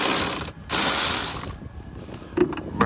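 A ratchet clicks in quick bursts while loosening a 10 mm battery terminal nut on a 2013 Mercedes-Benz E350 W212, close and fairly loud with brief pauses between strokes.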